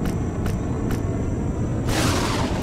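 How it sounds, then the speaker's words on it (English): Deep thunder boom from a lightning strike in the survival game Empyrion Galactic Survival, a low rolling rumble spread across the moment, with a brighter crackling burst of noise breaking in toward the end. "It's just lightning. I heard that weird boom."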